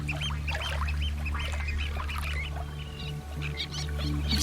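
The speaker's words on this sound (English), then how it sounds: "Had a little tern go right in beside me and pull out a little sand eel, and it's still managing to squeak with its food in its beak." A little tern on the coast at Blakeney Point squeaking while holding a sand eel in its beak, a series of high, thin chirps over a steady low wind or engine rumble, no talking.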